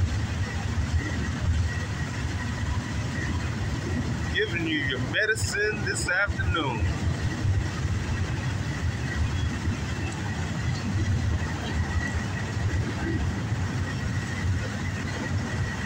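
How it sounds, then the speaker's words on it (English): A heavy CSX southbound intermodal double-stack freight train rumbles steadily past at close range in Dayton, a deep continuous roar with wind buffeting the microphone and a brief spoken phrase midway. "Southbound intermodal double stack train."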